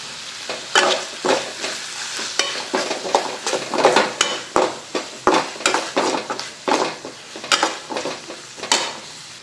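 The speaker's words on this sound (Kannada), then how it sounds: "ಈಗ ಬೇಗ ಒಗ್ಗರಣೆ ಹಾಕಿ ಸಿಗ್ತೀನಂತೆ" Tempering for chitranna fried in a pan, a spatula scraping and stirring in rhythmic bursts over a bright, steady sizzle, close and fairly loud, with light metal clinks and no talking.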